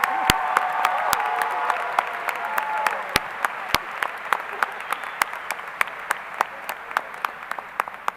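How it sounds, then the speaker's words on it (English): Steady applause from a crowd at a high school graduation ceremony, dense clapping that continues throughout, with individual claps standing out sharply as it thins toward the end. "Please give them another round of applause."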